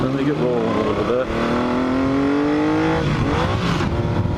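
A 1980 Yamaha XS850 Special motorcycle accelerating hard, its engine note climbing steadily in pitch over a few seconds, then dropping and rising again as it shifts, loud and close with rushing wind underneath.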